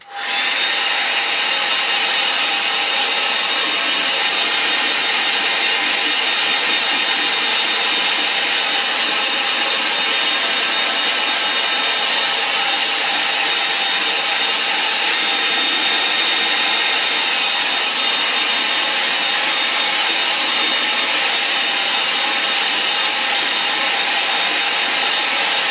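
A hair dryer runs continuously to dry paint, a loud, steady, close-up airy roar with a faint whine that holds unbroken throughout, with no voices.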